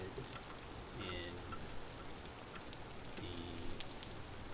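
Rain in the survival video game Vintage Story falls as a continuous, even hiss of drops, loud and steady throughout.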